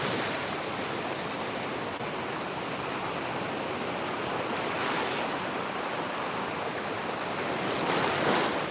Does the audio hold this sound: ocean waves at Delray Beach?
yes